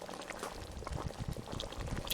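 Jamaican brown stew chicken with scallion and spices simmering in a pot, giving a dense, continuous bubbling and sizzling texture that is close and steady throughout, with no talk.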